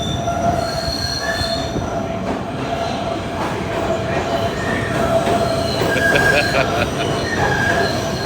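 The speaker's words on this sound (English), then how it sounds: "These PATH trains go from New Jersey over to New York." Wheels of a PATH train running between New Jersey and New York squeal on the rails, with sustained high metallic whines over a loud steady rumble of rolling cars, close by and continuous.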